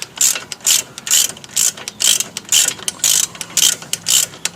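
A ratchet wrench clicks rapidly in repeated bursts as a suspension bolt is loosened on a Fiat Abarth, each short back-and-forth stroke producing a loud, close, crisp pawl chatter.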